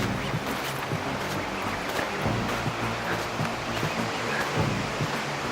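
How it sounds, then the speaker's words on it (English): Small waterfalls in the backcountry near Mt. Saint Helens give a steady, broadband rush of falling water with no break, heard from a moderate distance and without any voices. "There's a couple waterfalls back here."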